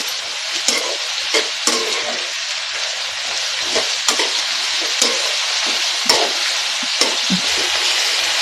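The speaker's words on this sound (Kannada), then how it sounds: "ಉರಿ ಜೋರು ಮಾಡಿಬಿಟ್ಟು ಇವಾಗ ಹುರ್ಕೊಳ್ಳಿ" Long eggplant pieces frying in a pan over high heat while being stirred: a steady, dense sizzle runs throughout, with regular scraping strokes from the stirring utensil cutting through it.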